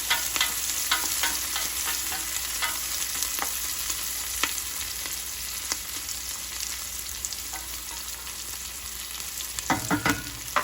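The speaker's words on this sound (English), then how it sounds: "I'm gonna add my onions. Lower the heat a little bit, give that a little bit of a stir." Onions fry in a soup pot over lowered heat, a continuous close sizzle broken by light stirring scrapes, a louder clatter near the end.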